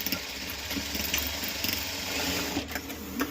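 Sewing machine stitching a bag made from an old top, a steady close mechanical whirring hum with a fine rapid needle chatter running continuously without pause.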